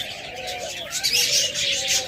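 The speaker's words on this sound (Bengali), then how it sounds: "এগুলো কিন্তু মেটিং কল দিতেছে" A red-eyed breeding pair of tame pet birds giving mating calls: soft repeated coos and chirps, fairly close and steady over a constant background hiss.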